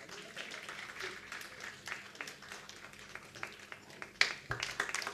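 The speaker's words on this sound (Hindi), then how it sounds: "जोरदार तालियां।" An audience at a theatre award ceremony gives faint, scattered applause that swells toward the end, with a few sharper claps standing out.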